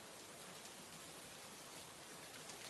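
Soft, continuous rainfall makes a smooth, unbroken hiss at a fairly low level, steady throughout with no distinct drops and no talking.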